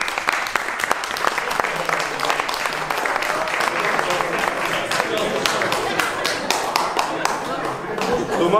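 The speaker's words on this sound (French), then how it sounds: "Je pense que vous pouvez vous applaudir" Sustained applause from a hunting party after a montería hunt in Toledo, dense steady clapping with a few sharp claps standing out, loud and continuous throughout.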